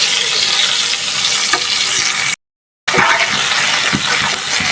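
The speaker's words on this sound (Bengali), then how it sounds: "আর ফুলকাটা আমি মশা করে বেজে নিচ্ছি" Cauliflower florets frying in oil in a pan, a loud close sizzle with occasional spatula knocks, broken by a brief moment of total silence before the frying resumes; no voices.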